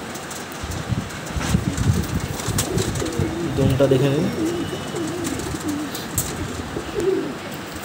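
Restless kalpora kaldum giribaz pigeons at a home loft coo in soft repeated low calls through the middle stretch, with handling flutters and someone talking over them.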